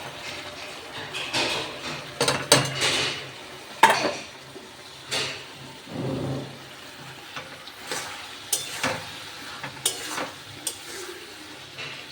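Spice masala frying in a pan while being stirred, steady sizzle broken by repeated scraping strokes and occasional utensil clinks, close and fairly quiet, with no talk.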